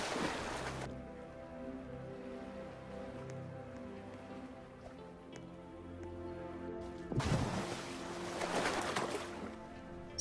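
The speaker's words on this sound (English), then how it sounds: "I love the waves, those are great" Ocean waves in the Fishing Simulator video game, a soft steady wash of water under a low tonal hum, rising into a louder surging rush near the end.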